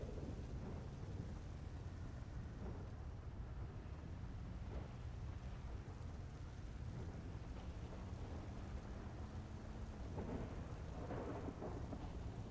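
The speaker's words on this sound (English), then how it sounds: "These storms, man, I never liked them." A steady thunderstorm with rain in the video game GTA V: continuous rainfall hiss and low rolling thunder rumble, fairly faint and constant throughout, with no voices over it.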